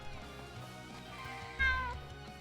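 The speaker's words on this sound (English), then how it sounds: "Meow." A cat meows close by over a steady hum of video-game music, with one louder rising call near the end standing out clearly.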